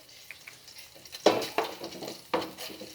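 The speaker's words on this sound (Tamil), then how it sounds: "நல்லா வதங்கட்டும்." Garlic sautés in melted butter in a pan for soup, with a soft sizzle under a few clinks and scrapes of a utensil against the pan.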